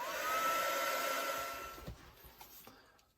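A hair dryer blows steadily over an art journal page to dry ink, loud and close for about two seconds before winding down and fading, with a few soft knocks near the end.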